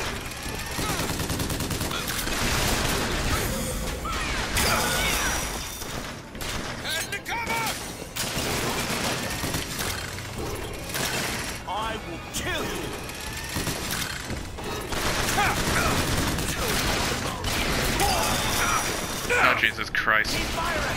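Sustained gunfire in the BioShock Infinite video game, a dense and continuous rattle of shots and impacts in a loud firefight, with voices talking over it.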